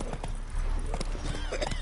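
Hooves of the horse Roach clip-clopping in The Witcher 3, a quick, close run of hoofbeats in steady rhythm over low ambient game sound.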